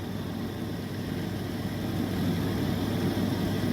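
A car with an overheating fault sits idling, its engine giving a steady, even hum with a low rumble that swells slightly halfway through, close by and with no talk over it.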